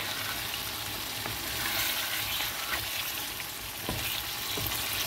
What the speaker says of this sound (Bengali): মাংসটা থেকে অলরেডি তেল ছেড়ে দিয়েছে, মাংসটা কষানো ডান।